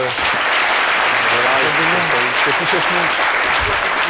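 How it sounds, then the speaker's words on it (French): Audience applause at a French CMIDI broadcast event, a steady dense wash of clapping from a crowd with voices talking over it throughout. "Des applaudissements pour notre..."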